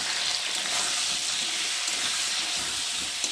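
Spice masala with chopped tomato, green chili, salt and turmeric fries in hot oil, a loud continuous sizzle and hiss that stays steady throughout, close up and without talking.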